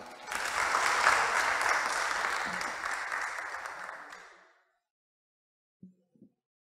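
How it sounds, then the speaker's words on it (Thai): Applause welcoming a JAXA Bangkok Office director to the stage at a press conference, a few seconds of dense clapping that fades out, then near silence with a couple of faint thumps. "ขอเสียงปรบมือต้อนรับมิสเตอร์อัศชีด้วยครับ"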